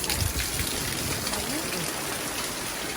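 Heavy rain pours and splashes steadily around a person sheltering under an umbrella, a dense close wash of water, with faint voices underneath.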